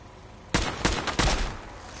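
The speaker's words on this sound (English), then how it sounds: "Just a few shots blew away his head." Fallout 4 gunfire: three loud, close shots in quick succession, each with a short echoing tail, over faint game background.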